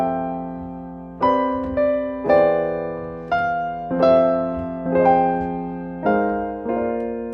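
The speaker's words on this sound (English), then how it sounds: "you'll be able to make chord progressions that sound like this" Piano plays a slow chord progression of sustained chords, each struck and left to ring about once a second, clear and alone with no voices.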